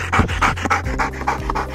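A Belgian Malinois pants rapidly and heavily after overheating, a steady run of close, loud, rhythmic breaths with no talk.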